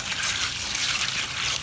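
Water rushes steadily as fish tank filter sponges are rinsed in a filter bucket, a continuous close hiss-like splash with no talk.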